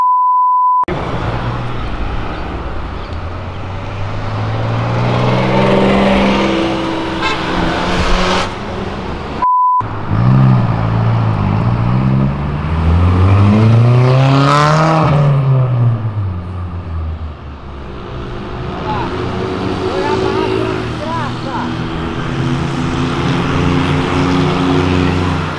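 Car engine roaring in a classic-car racing video game, loud and near, rising and falling through revs with a sharp high sweep mid-way, and a brief beep tone and cut near the start.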